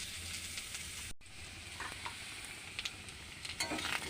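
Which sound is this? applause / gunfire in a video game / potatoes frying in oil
potatoes frying in oil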